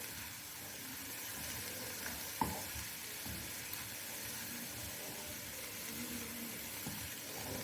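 Vegetables for a Spanish omelette, carrot, potato, capsicum and onion, cooking in a pan with a faint, steady low sizzle and a couple of soft stirring knocks, no talk.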